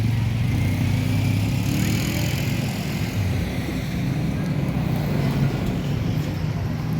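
A steady, loud engine drone from motorcycles in a political rally fills the scene continuously, with a constant rumbling hum and no clear breaks.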